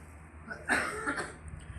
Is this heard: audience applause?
no